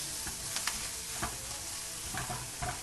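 Thin-sliced portobello mushrooms sizzle in oil in a pan over medium heat, a soft continuous frying hiss broken by several sharp crackles and spatters as they are stirred, fairly close with no talking.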